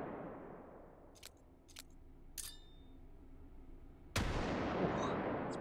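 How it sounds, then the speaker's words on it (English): Gunfire and explosions in the VR shooter Hot Dogs, Horseshoes & Hand Grenades: a few sharp shots, then a loud blast that leaves a long, fading rumble. "Explosions are so loud."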